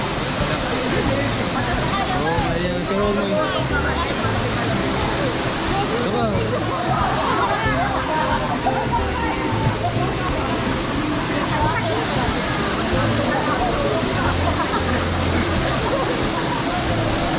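Rushing mountain waterfall on a hike up Mt. 387 (Batong Amat), a loud continuous roar of falling water throughout, with splashing texture and a voice speaking briefly over the steady noise.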